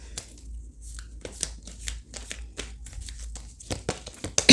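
A deck of tarot cards is shuffled by hand in a quick series of close, crisp riffling bursts, with no talk.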